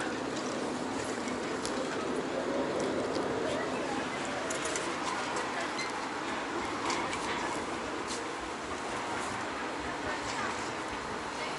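Train stopping at Warsaw Central station: a constant rumbling interior hum with faint clicks and rattles, passengers moving about and voices murmuring in the background.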